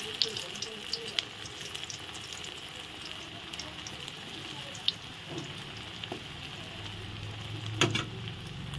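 Raw banana koftas frying in hot oil for a vegetarian recipe, a steady low sizzle running throughout with a few soft clicks and one brief louder stir near the end, no talking.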